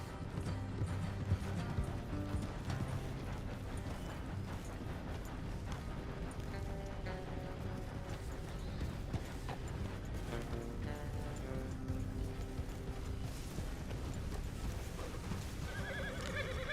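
Horses in the Red Dead Redemption video game plod along with steady clip-clop hooves and occasional neighs, set against a continuous bed of game music and ambience that runs throughout.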